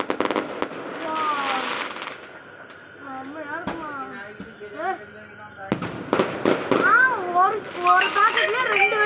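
Firecrackers pop in quick crackling bursts, some sharp and close, while people and children chatter and exclaim over them.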